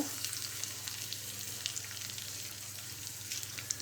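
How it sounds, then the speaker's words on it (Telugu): Tempering seeds and garlic for a curry leaf roti pachadi sizzle steadily in hot oil in a pan, a dense, continuous crackling frying hiss heard up close with no talk. "తాలింపు కోసం ప్యాన్ పెట్టి ఆయిల్ వేసుకోవాలి. ఆయిల్ వేడిన తర్వాత తాలింపు గింజలు,"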